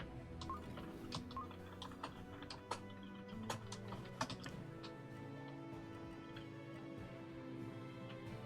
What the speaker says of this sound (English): Those loud keyboard noises.